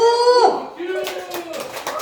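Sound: audience clapping

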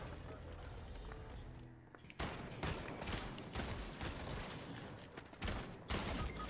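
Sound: gunshot from the video game Fortnite

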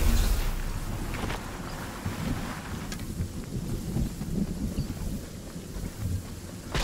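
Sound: storm thunder in the video game Fortnite

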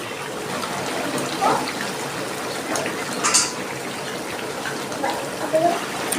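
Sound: small mourola fish added to hot pan, cooking with taro greens

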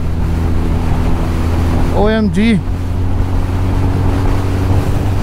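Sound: strong wind blowing on a mountain pass

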